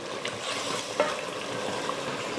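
Chicken sautés in oil in a pan for pressure-cooker biryani, a close, steady sizzle with light stirring clicks and no talking.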